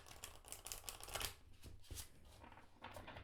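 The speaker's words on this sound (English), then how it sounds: "And you can riffle shuffle it." An animal-themed tarot deck is riffle shuffled by hand: a quick ripping flutter of cards falling together, followed by softer bridging and squaring, close and fairly quiet.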